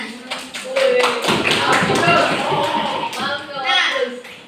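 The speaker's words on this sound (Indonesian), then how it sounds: "Beri aplaus untuk temannya." Students in an Indonesian classroom clap for a classmate, a burst of overlapping applause that rises after a few sharp taps and holds for several seconds, with voices mixed in.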